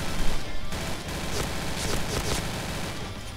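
Rapid automatic fire from a Tar-21 rifle in the Point Blank shooter game, a fast continuous rattle of shots with sharp crackling bursts, loud and close, with no talk over it.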